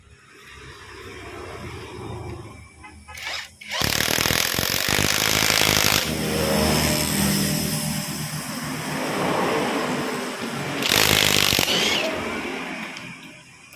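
A power tool tightens the shock absorber bolt on a motorcycle in loud, close bursts of rapid rattling impacts and whirring, with a long sustained run and a second short burst near the end.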